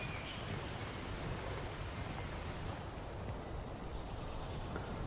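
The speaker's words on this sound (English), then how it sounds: "In fact, it's just starting to rain." Light rain falls in a garden, a soft, even hiss that stays steady and faint throughout with no voices.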